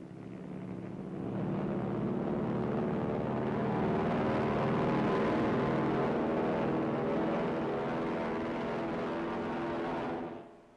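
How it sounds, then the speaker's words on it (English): A steady, loud roar of wartime military aircraft engines taking off at dawn swells up and holds, droning on for several seconds before cutting off, with no voices. "The first planes take off at dawn."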